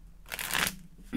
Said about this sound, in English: One more shuffle, Taurus reading.